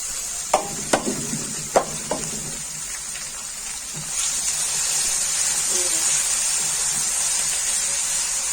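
Garlic, ginger and green chili paste fry with onions in a pan. A few sharp spoon clanks and stirring come first, then a steady, close sizzle carries on alone.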